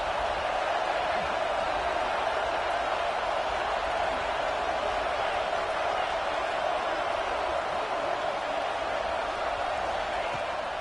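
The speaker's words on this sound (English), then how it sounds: "Decibels rising as the crowd gets behind this defense on 3rd down." Stadium crowd noise on a defensive third down in a football video game, a steady, dense roar that holds evenly loud throughout with no distinct voices standing out.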